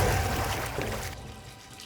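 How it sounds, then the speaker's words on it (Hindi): Water pours briefly in a crime drama scene, a close splashing flow that fades out after about a second. "पानी की आवाज?"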